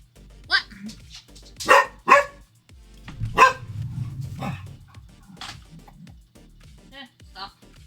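A young dog barks and yips in a few sharp bursts among ongoing talk indoors, with whimpering tones between the barks.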